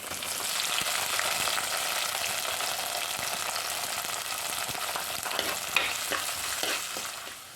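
Around twenty long-sliced shallots sizzle steadily in hot oil for a Kerala prawn theeyal, with a spoon scraping and stirring through the pan in occasional clinks, close and continuous with no talk.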